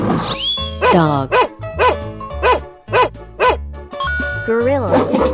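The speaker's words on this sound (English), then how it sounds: "Dog." Cartoonish dog barks from a 3D animal video game ring out in a series of about seven loud, close yaps and bow-wows over bouncy game music.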